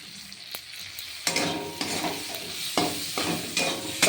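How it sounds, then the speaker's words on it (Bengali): Tomatoes are stirred into onions frying in a wok already browned from frying prawns. A close, steady sizzle runs under repeated scraping spatula strokes, with no talking. "টমেটোটা দিয়ে একটু নাড়াচাড়া দিয়ে"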